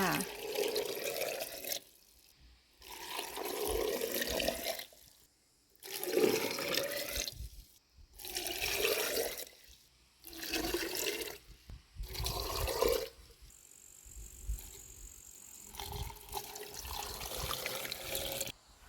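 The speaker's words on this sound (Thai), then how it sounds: "เสร็จแล้วเราก็ใส่น้ำเกลือไปเลยจ้า" Brine poured from a container into jars of pickled cucumbers, repeated bursts of splashing, gurgling liquid separated by short pauses, close and clear, with a softer trickle toward the end.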